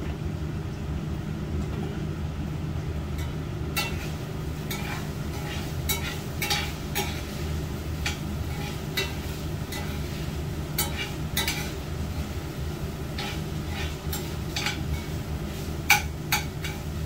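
Ground beef and sausage sizzle steadily in a pan for breakfast burritos, a soft continuous fry with scattered sharp clicks and scrapes of a utensil stirring against the metal, no voices.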